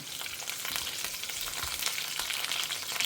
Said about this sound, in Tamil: கருவேப்பிலை, பூண்டு போட்டுக்கலாம். பூண்டு நல்லா பொரியணும்.